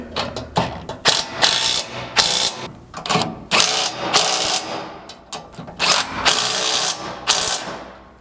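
A socket ratchet tightens rear bumper hardware on a Toyota Tundra, making repeated bursts of sharp, close clicking in uneven strokes separated by short gaps.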